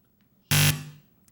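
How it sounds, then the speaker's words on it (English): A quiz show buzzer signals the end of a rapid-fire round at a high school academic competition, one loud, harsh electronic blast lasting about a quarter second and then fading, in a quiet room. "That buzzer means the end to the rapid fire round."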